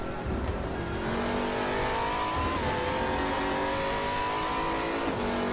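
A race car on RaceRoom Raceway in a racing video game screams at high revs, its engine note rising and dropping with gear shifts, steady and continuous without any voices.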